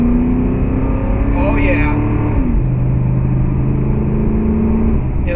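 A Chevy 2500 Avalanche truck on 33-inch tires accelerates hard toward 60 mph, its engine drone loud and steady inside the cab with a gear change partway through, and a brief spoken remark over it.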